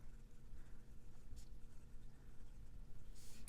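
A fountain pen with a Jowo medium nib writing on paper, a faint, close, continuous scratchy glide with small strokes, heard alone without talk.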